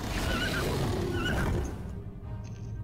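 Inside the fantasy strategy video game Die Zwerge, a horse gives a loud, close whinny with rising and falling pitch over a dense battle din, which thins out toward the end.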